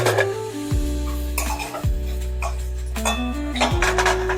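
Eggplant bharit being stirred in a pan with spices: spoon scrapes and metallic clinks against the pan recur over a steady low sizzle, close and clear, with no talking.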